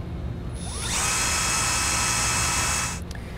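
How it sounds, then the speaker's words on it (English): A power drill whines at a high steady pitch as it bores a pilot hole into metal for a few seconds while a base plate kit is fitted to a 2017 Subaru Forester, then spins down. "I'm going to come back with a smaller drill bit and drill my pilot hole out."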